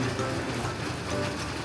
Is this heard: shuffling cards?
no